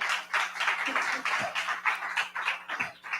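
A live audience claps at a community talk about Hospitality House in San Francisco, a steady wash of many hands from start to finish at moderate, fairly close loudness.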